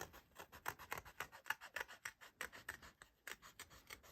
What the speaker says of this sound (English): So just going to cut this circle out